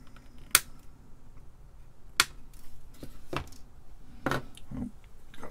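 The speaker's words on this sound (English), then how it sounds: "Trim these leads off." Side cutters snip component leads on a front panel controller PCB for an Altair 8800 kit, making about five sharp, close clicks spread out at irregular intervals over a quiet background.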